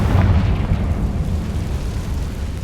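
A loud, deep rumbling blast from the Confringo explosion spell in a Harry Potter video game opens strongly and then rolls on as a sustained, fading roar.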